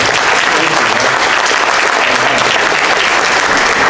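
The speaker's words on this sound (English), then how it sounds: "Let's give them a round of applause for the food" Dense, steady applause from an awards-ceremony audience, loud and sustained throughout without a break.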